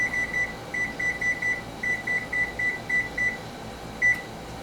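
A kitchen oven beeps while being set to preheat to 425 degrees, a series of short, evenly spaced electronic tones repeating for several seconds, then one last beep after a brief pause, over a steady room hum.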